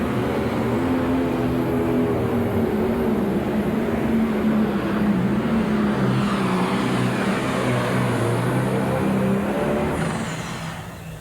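A Pro Stock tractor at a 2002 NFMS 10,200-pound pull in Louisville, Kentucky, roars continuously as it drags the sled, a loud sustained engine drone with shifting pitch that fades slightly at the end.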